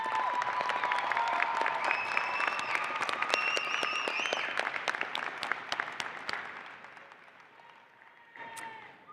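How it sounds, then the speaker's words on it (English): A large audience at a university undergraduate commencement claps in a sustained, dense round of applause that thins and fades toward the end, with a voice briefly heard as it dies down. "Please take a moment to thank them with a round of applause."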